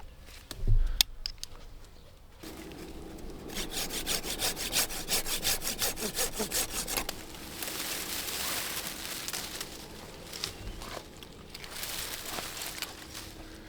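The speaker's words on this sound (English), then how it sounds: "I'm going to take the saw to some of these so I can get really close back to that stem." Hand saw cutting through olive tree branches during pruning, a steady back-and-forth rasp of strokes that starts after a brief knock and continues rhythmically, close and moderately loud with no talking.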